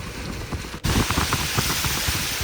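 Heavy rain falls at Lakhota lake in Jamnagar amid wind, a steady dense hiss of drops that suddenly grows louder and fuller partway through and holds without a break.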